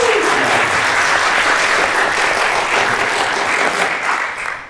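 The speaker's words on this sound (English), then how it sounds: "Round of applause, please" An audience at a film festival Q&A for the films Echoes and Astoria breaks into loud, dense applause. It holds steady for several seconds, then tapers off at the end.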